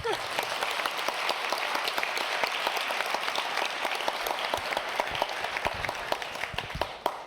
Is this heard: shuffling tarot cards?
no